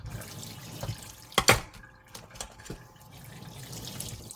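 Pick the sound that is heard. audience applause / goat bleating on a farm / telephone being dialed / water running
water running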